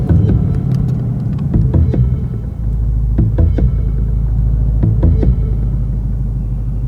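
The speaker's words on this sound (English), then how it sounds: "So the startup sequence in this thing is the coolest." A 2024 Ford Mustang GT V8 fires up and settles into a loud, steady low rumble, with several sharp blips and pulses rising over the continuous throb.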